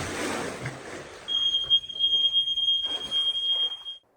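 A home pool alarm sounds a steady high electronic tone that starts after a moment of noise and holds loud and continuous, with a brief gap, before cutting off at the end.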